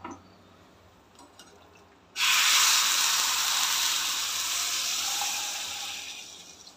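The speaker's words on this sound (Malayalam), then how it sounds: "മോരിനി കടുക് വറക്കട്ടെ." Mustard seeds fry in hot oil for tempering a buttermilk curry, a sudden loud sizzling hiss that bursts in after a quiet start and stays strong, easing slightly toward the end.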